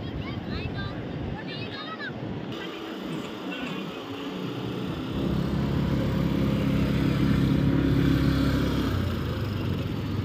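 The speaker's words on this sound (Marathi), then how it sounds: "इकडे प्रेम भैया आणि अंश मोटर राईड करत आहे" A motorbike engine runs outdoors on a coastal trip, a steady rumbling drone that grows louder partway through and is mixed with wind buffeting, with people talking over it.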